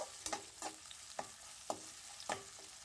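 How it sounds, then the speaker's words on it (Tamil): Curry leaves being sautéed in a pan for a Tamil seer fish curry: a faint steady sizzle with rhythmic spatula scrapes and stirring taps about every half second. "இப்போ இது கூடவே கொஞ்சமாக கருவேப்பிலை சேர்த்துக்கலாம். நல்லா வதக்கி விட்டுக்கோங்க."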